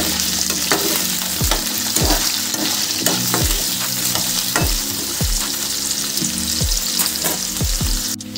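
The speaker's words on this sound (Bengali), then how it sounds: "কড়াইয়ে আবার একটু তেল দিয়ে দিয়েছি, তেলটা গরম হয়ে গেছে। এর মধ্যে কেটে রাখা আলুগুলো ফ্রাই করে নেব।" Cut potatoes fry in hot oil in a wok, a continuous close sizzle broken by regular scraping stirs roughly every half second, with no talk.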